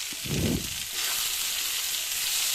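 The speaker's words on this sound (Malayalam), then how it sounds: "ചെറിയ പീസുകളാക്കി അരിഞ്ഞ് വെച്ചിരിക്കുന്ന സവാള പച്ചമുളക് അരിഞ്ഞത് അതിലേക്കിടുക" Chopped onion and green chilli hit hot oil in a pan, a brief thump followed by a loud, continuous hissing sizzle that holds steady throughout.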